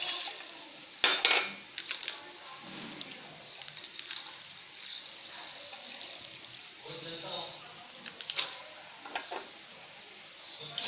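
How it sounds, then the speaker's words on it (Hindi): Milk pours into a pan of simmering cardamom and ginger tea decoction, with faint splashing, a few clinks of a vessel, and someone talking over the kitchen sounds. "मैं मार्क करके 2 कप दूध डालूंगी।"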